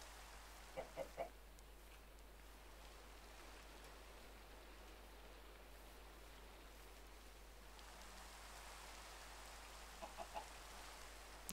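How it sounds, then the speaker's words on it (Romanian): A chicken in the Minecraft video game clucks in a quick triple burst early on and again near the end, faint against a soft rain-like background hiss, with no talking. "Uite o găină."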